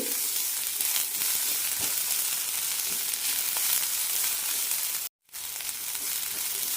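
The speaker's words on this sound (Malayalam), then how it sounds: "അരിഞ്ഞു വെച്ച സവാള ഇടാം സവാള ചെറുതായി വഴന്ന് കിട്ടിയാൽ മതി" Chopped onions sauté in a pan for a quick onion kurma, giving a continuous, even sizzle close by with faint stirring, briefly cut to silence before the hiss resumes.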